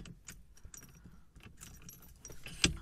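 Keys jangle briefly as a key is pulled from a car's steering lock during a NARDI steering wheel swap, with a sharp bright metallic clink near the end over low background rumble.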